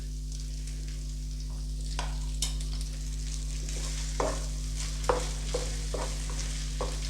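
Chitranna rice tossed with chutney powder is stirred in a pan, with soft scraping and several spoon knocks over a low hum, fairly quiet and without speech.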